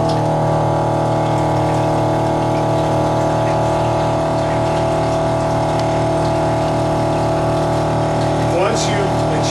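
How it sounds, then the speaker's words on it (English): A PEX 500 portable carpet extractor's pump runs steadily while purging air from its lines, a loud continuous mechanical hum with watery churning and a brief higher whine near the end. "At this point, we will turn the pump on and purge all air out of the system."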